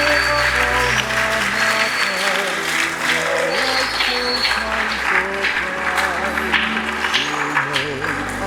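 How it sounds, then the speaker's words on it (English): Audience applause at a school anniversary gathering, sustained clapping across the whole stretch, mixed with tonal music or background hum and some crowd noise. "A round of applause again."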